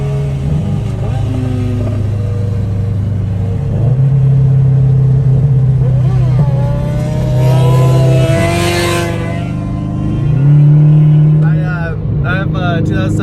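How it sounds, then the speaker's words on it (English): A motorcycle cruising at speed down the freeway, its engine a loud, steady droning hum that rises and dips in pitch with throttle changes, plus a rumbling push near the end, sustained across the whole stretch. "So yep, he's flying down the freeway right now."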